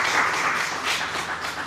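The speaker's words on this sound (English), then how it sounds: "Let's give ourselves a round of applause" An audience at the Eastern Cape Tourism Awards and Expo launch applauds in a brief, steady, moderately distant wash of clapping.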